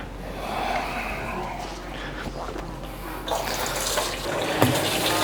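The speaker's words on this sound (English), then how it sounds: "we're just draining water into the barrels here" Water drains out of a large reef aquarium into barrels, a steady close rushing and gurgling flow that grows fuller and splashier toward the end, with no talk.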